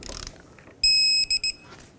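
Electronic beeps from a torque wrench reaching 37 foot-pounds on a 2007-2009 Saturn Aura front control arm bolt: one longer high tone followed by two short beeps, clear and close, with faint background noise before them.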